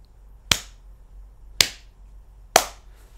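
Three sharp hand claps, about a second apart, sound close and alone in a quiet room while testing a clap-activated light on a micro:bit board.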